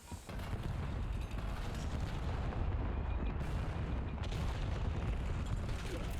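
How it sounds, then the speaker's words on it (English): Cluster grenade blast in a Call of Duty match, a dense, continuous rumble of overlapping explosions and booming fire that stays loud and steady for several seconds with no pauses. "Toss a cluster grenade."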